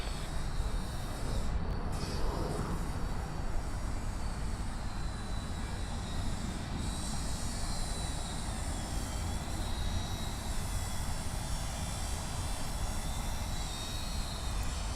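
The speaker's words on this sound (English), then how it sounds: "we've got Qantas flight 4 and I've lost focus. There we go. 787 Dreamliner coming in from Auckland" A Qantas Boeing 787 Dreamliner arrives at Sydney Airport from Auckland, a steady broadband jet rumble and roar that holds at moderate level for the whole stretch, with no talk over it.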